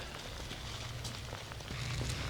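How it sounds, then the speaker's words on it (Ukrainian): Steady rain falls on a wild riverbank during a fishing trip, a dense continuous hiss of drops pattering nearby with a low rumbling undertone throughout and no speech. "дощик ще йде"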